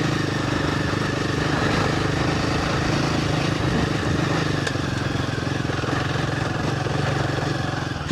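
Royal Enfield Himalayan 450 motorcycle ridden off-road on a loose, slippery dirt track in Whirinaki, New Zealand, its engine droning steadily and loudly close by throughout, with no talk.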